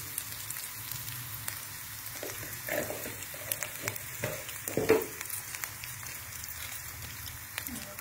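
Turmeric, Kashmiri chilli powder and other spices frying together in a pan over low gas, a soft, steady sizzle with occasional stirring scrapes and clinks, fairly quiet and without speech.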